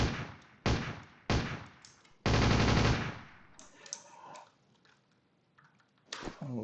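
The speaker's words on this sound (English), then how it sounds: "many guns actually have fire modes. So here is full auto," Full-auto bursts from a fancy AK-style rifle in a Babylon.js browser game: several loud, rapid bursts in quick succession, one longer sustained burst, then quieter mechanical clatter and a final short burst.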